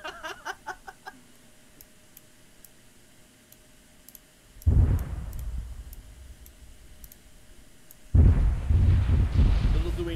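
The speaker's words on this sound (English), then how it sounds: "I don't like hearing multiple explosions hit the same time." Two heavy explosions go off in a video game, each a sudden deep boom with a rumbling tail, after several seconds of quiet clicking and faint background noise.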